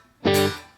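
A Vox AC30 Top Boost guitar amp with the reverb switched off gives one short, loud, bright chord that rings for about a quarter second and then decays dry, with no reverb tail.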